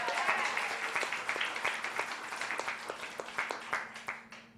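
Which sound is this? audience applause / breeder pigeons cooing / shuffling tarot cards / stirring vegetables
audience applause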